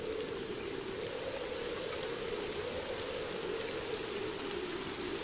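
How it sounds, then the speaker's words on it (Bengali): Heavy storm rain in a cartoon scene pours in a dense, unbroken roar that stays loud and even from start to finish, with no voices. "আর বৃষ্টি থামবার তো কোনো নামই নেই"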